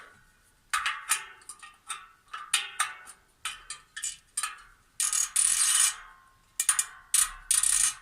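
A 15 mm wrench tightens bolts on a bicycle wheel being trued, giving a series of short metallic ratcheting clicks in uneven bursts with brief pauses, close and fairly quiet.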